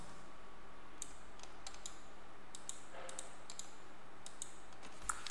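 Quiet keystrokes clatter on a computer keyboard as a command is entered on Ubuntu, scattered soft clicks in short bursts over a low steady room hum.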